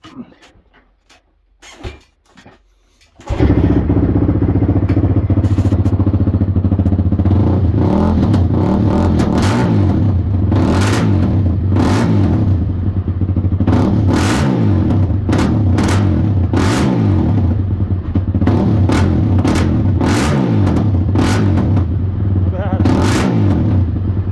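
A Honda TRX450R ATV engine starts after a few cranking attempts, then idles loudly and close with repeated revs rising and falling, while a person talks briefly.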